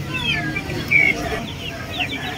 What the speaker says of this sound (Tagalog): So yung itong manok na to is may balahibo sa kanyang paa.